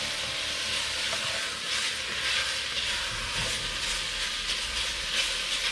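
Bacon grease sizzling hard in a hot pan while being stirred up, a dense continuous hiss with soft scraping beneath, close and steady throughout.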